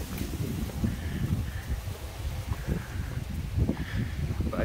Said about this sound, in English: out on these exposed rocks, it gets very windy.